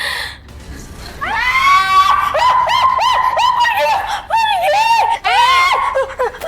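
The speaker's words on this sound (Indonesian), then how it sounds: "Kamu tuh ngapain sih teriak-teriak?" A woman screams in loud, repeated, high-pitched bursts, cracking and wavering for several seconds with brief breaks between them, close and dominant throughout.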